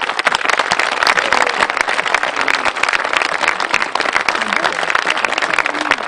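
An outdoor crowd at a cultural event in a manor park in Mamers applauds people wearing traditional costumes, steady dense clapping throughout with some voices mixed in.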